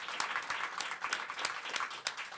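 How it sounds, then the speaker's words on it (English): Scattered applause from a small audience, light and somewhat distant, with uneven claps for a couple of seconds. "Give him a round of applause, too."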